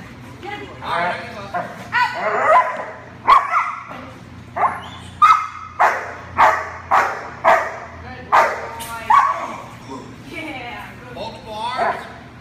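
An eight-month-old protection dog barks repeatedly in a steady rhythm during grip training, close and loud, with a handler talking and shouting encouragement over and between the barks.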